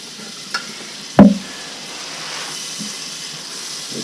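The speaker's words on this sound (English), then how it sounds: "So we're going to put in 1 stick of butter." A stick of butter dropping into a warm pot for oyster stew with one soft thud, followed by a faint, steady low sizzle as it starts to melt.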